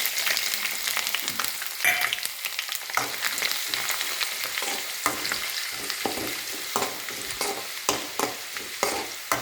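Curry leaves and ginger sizzle and crackle in hot oil, a bright, dense frying hiss with sharp popping bursts and occasional stirring, heard up close and alone.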